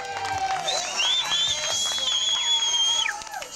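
Guests at a golden wedding anniversary celebration applauding and cheering loudly, a sustained crowd roar with clapping throughout, overlaid with whistles or high tones.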